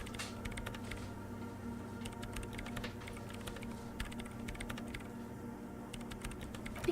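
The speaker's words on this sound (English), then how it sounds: "She has already turned back to her keyboard." Steady typing on a computer keyboard inside a police station office in Disco Elysium, a continuous patter of soft keystrokes at close range over a low ambient hum, with no talking.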